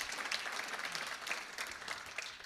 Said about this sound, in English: A round of applause also for Melinda Plue and Reverend Candace Burgess for their work